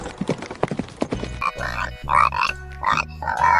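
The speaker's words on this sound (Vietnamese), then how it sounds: "Chú lợn con." A piglet grunts in a quick series of short, rough calls, close and fairly loud, with no talk over it.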